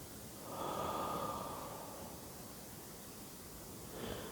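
Slow, soft exhale during a guided meditation, a quiet airy breath out that swells and fades, with a faint start of another breath at the end.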